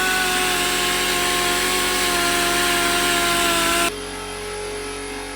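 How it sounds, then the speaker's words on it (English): Power tool cutting down a lower control arm on a Datsun 180B, a loud, close, continuous high-pitched whine with a grinding rasp that drops abruptly to a quieter hum near the end, no talk. "So we're chopping a little bit off the LCA"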